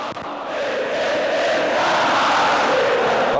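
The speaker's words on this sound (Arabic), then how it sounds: "انا بستمتع بالصياح والاناشيد والازاريج اللي بيعملها النادي الاهلي." Al Ahly supporters at a women's volleyball final in a packed arena, a dense, steady roar of shouting and chanting that swells slightly and holds loud throughout, with no clear individual voices.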